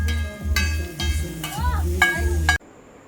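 Chowmein stir-fried at a food stall, with steady scraping and tossing strokes of a spatula against a wok over a low sizzle, a few metallic clinks in rhythm, then stopping abruptly near the end.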